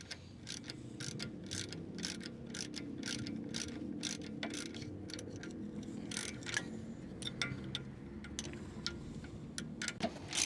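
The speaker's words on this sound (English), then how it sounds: "put our 21 mil spanner on there, our socket on the back" Ratchet socket wrench on a brake bolt of a 2021 Ford Transit Custom, giving a steady run of quick, crisp clicks close by with a low background hum and no talking.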